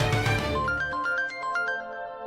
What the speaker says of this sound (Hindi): अरे जीजा जी का फोन।